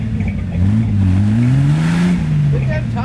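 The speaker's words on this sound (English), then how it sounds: "Look at them tires spinning." A Ford Lightning or Bronco on swamper tires spins its wheels while stuck, the engine revving in rising and falling whines, loud and close throughout.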